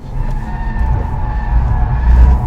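A 355bhp Mercedes A45 AMG brakes hard, its tyres skidding and scrubbing loudly over a steady engine roar, the noise swelling toward the end.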